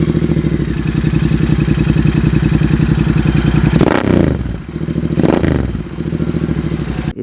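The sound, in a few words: modified Royal Enfield Interceptor 650 exhaust note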